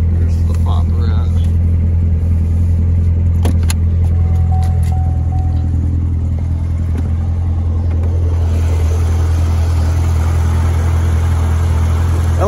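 A supercharged 6.2 liter LT4 V8 in a 2015 Corvette Z06 idles with a steady, deep low rumble throughout, heard up close under the open hood, with a voice talking over it.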